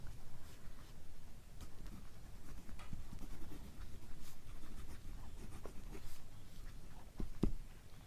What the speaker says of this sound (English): Let me now try some reverse writing.